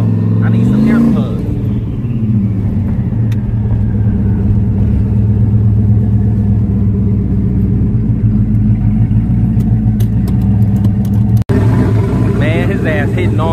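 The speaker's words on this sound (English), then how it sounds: "Man, this car fast, man. This fast. And it's loud." A G-body car's engine roars loudly and steadily from inside the cabin, a deep continuous rumble, with someone talking briefly near the end.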